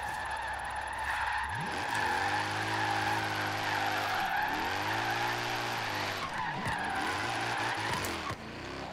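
Video game car drifting, with a loud sustained tire screech over a rising and falling engine whine, the skid holding for several seconds and dipping briefly mid-slide.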